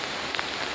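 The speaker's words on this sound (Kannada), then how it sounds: "ಮಳೆ ಕೂಡ ಬರ್ತಾ ಇದೆ" Steady rain falling on a garden, a soft continuous hiss with a few faint drop ticks, no voices.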